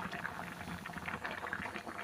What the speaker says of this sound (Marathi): भाजीला छानपैकी उकळी आलेली आहे